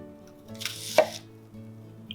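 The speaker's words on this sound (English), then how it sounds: "I'm cutting my onion into 4 pieces" A knife cuts through an onion into quarters on a board, one crisp, close chop with a soft crunch in an otherwise quiet kitchen.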